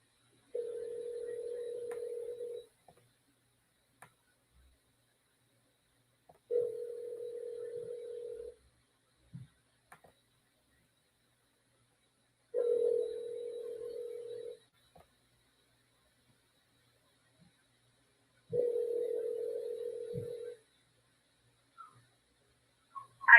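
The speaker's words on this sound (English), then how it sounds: "Please wait while we connect to your phone call." Telephone connecting tones repeat while a call waits to go through, four steady ringback bursts of about two seconds each separated by roughly four-second silences, clear and alone with no talking.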